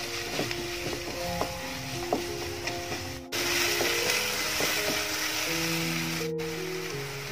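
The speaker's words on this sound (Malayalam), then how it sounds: "ഇപ്പോൾ സവാള നന്നായിട്ട് വഴണ്ട് വന്നിട്ടുണ്ട്." Salted onions sauté in a pan with a steady, soft sizzle, punctuated by light clicks and scrapes of a spoon stirring, close and with no talking.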